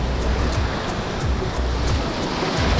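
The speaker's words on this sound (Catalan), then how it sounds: "Hi ha una mica d'onades perquè és una platja de fer surf," Surf waves roll in at a beach in Nicaragua, a continuous close, loud wash of water with gentle swells and some wind, and no voices.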